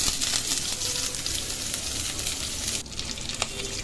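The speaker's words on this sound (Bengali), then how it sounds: "কড়াটা গরম হয়ে গেছে, অল্প একটু তেল দিয়ে দেবো। পেঁয়াজগুলো দিয়ে দিলাম।" Onions hitting hot oil in a heated kadai, producing a loud, continuous close sizzle with light stirring scrapes and a brief dip near the end; no voices.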